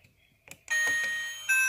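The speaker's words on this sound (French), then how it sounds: "la sonnette qui rend" A Playmobil modern house toy doorbell rings once, a short electronic chime with sustained tones after a faint click, heard close and alone.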